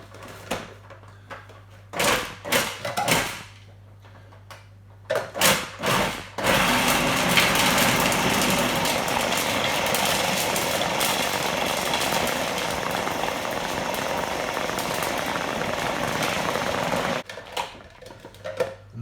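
A kitchen mixer pulsing frozen chocolate chips into chocolate cookie dough hums close by in a few brief bursts, then runs in one long, loud, steady whir before stopping.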